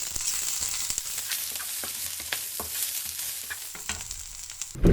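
Food frying in the video game Eastward, a steady close sizzle with scattered crackles and pops running throughout, with no talk over it.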